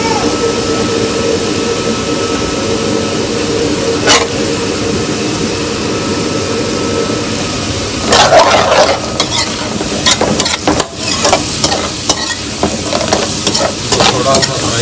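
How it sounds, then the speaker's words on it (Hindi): Capsicum and onion stir-frying in a hot pan for chicken Manchurian, a loud continuous sizzle with a steady hiss, then a burst of scraping and tossing strokes later on, heard close up. "बाद हम इसमें अपनी शिमला मिर्च और प्याज ऐड करेंगे।"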